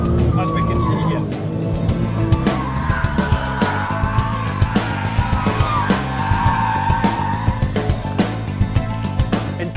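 Porsche 997 Turbo on a race track with its wheels spinning, tyres squealing and skidding under a steady engine roar, with narration running over the top throughout.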